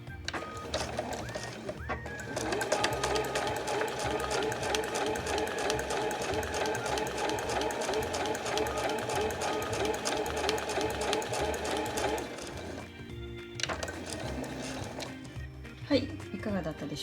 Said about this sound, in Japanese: 上糸しっかり引っ張って返し縫いからスタートしましょう。